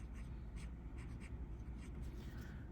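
A Lamy Ideos fountain pen with an oblique medium nib glides over paper in soft, continuous scratchy strokes, close and quiet with no talk.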